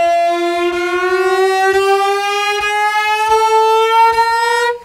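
A bowed double note on a string instrument, moved so the pitch glides steadily upward like a machine accelerating, with a rich stack of harmonics and faint rhythmic bow noise, close and sustained for about five seconds before stopping abruptly.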